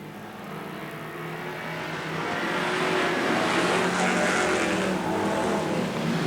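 Race cars roaring around Riverside Speedway, a dense continuous engine roar from several cars that swells louder midway and holds, heard from a distance with no voices over it.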